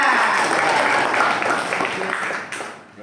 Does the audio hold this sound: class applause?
yes